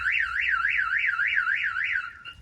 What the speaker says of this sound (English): Alarm done went off like 60 million times, guys.